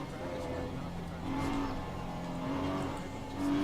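A race car in a racing video game, set at Spa on wet tires, holds a steady engine drone that rises and swells in pitch as it revs, with a voice talking over it.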